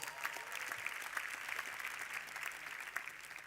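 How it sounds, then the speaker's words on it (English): Quiet, steady applause from an audience at the Doha GOALS 2014 youth forum greeting a speaker, a continuous patter of many hands heard from a distance. "Let's give her a round of applause."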